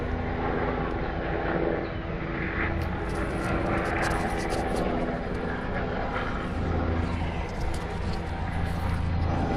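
An aircraft circles around an island, its engine drone a broad, steady roar that stays loud and continuous for the whole stretch, with no break or obvious approach and fade.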